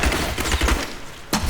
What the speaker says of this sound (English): I love that bola shot.